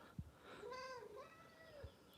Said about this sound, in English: Oh, he made a cat noise.